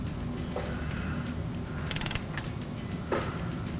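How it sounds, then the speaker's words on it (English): A torque wrench tightening the bolts on a cast aluminum B&M differential cover on a 2009–2017 Ford F-150, heard as a faint, brief ratcheting burst followed by a single click over a steady low mechanical hum. "I'm going to tighten them down and then torque them to 15 foot-pounds and torque them in a crisscross pattern."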